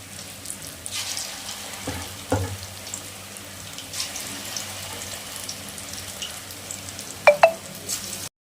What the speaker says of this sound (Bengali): দেখুন বন্ধুরা বড়াগুলো আমি ভেজে ফেলেছি দেখুন একটু লাল লাল করে ভেজেছি